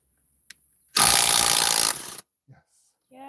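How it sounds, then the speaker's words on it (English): A loud Milwaukee impact wrench bursts on for about a second of harsh whirring while loosening lug nuts on a four-wheeler, then stops; brief clicks before and a voice starts just after. "we got the Milwaukee impact drill here."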